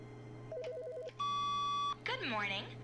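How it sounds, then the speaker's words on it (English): An electronic telephone in the video game The Stanley Parable sounds a warbling trill, then a long steady beep, followed by a garbled chirping burst, all fairly close and clear. "Another phone call."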